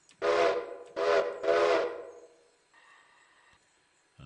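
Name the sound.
steam train whistle in the video game Railroader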